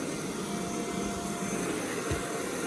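A Shark VerityLux vacuum cleaner runs with a steady, even broadband whoosh, continuous and fairly close throughout, with no talk over it.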